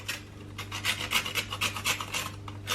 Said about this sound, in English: you get your nutmeg and you grate a good